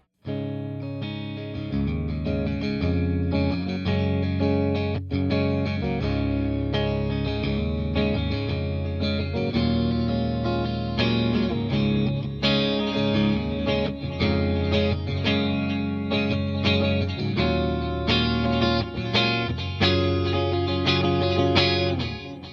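Electric guitar chords and riffs played through chorus and distortion effects, a shimmering, thick tone, steady and close with no talking.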